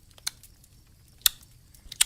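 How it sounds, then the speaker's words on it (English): Three sharp, isolated tongue clicks spaced roughly a second apart, crisp and close with near silence between them. "That's the sound of me clicking my tongue."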